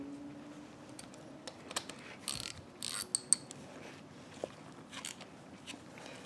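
A banjo bolt with crush washers and a brake line being threaded by hand into a brake caliper: faint, irregular metallic clicks and ratcheting ticks, close and quiet against a low background hum.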